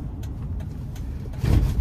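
A 2004 Ford F-350 XL pickup with a 6.8 V10 engine drives along, heard from the cab as a low steady engine and road rumble that swells louder in the final moments.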